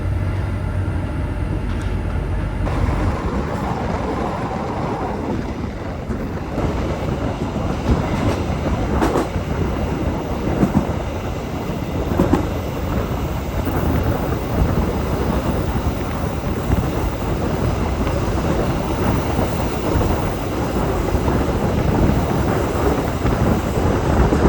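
The Banyubiru passenger train on the Semarang to Solo line, heard from aboard as a steady loud rumble of wheels on rails with rhythmic clickety-clack, continuous for the whole stretch with wind noise.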